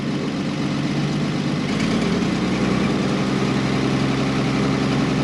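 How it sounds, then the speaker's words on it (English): A 1.5-ton Chevy dually truck engine runs loud and steady close by, its rumble rising slightly as it revs, with no voices. "Revving up."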